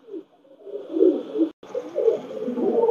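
A Pakistani Teddy pigeon gives a series of soft, low rolling coos up close, broken by a brief click partway through, with no one talking.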